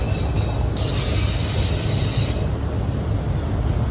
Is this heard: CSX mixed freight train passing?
yes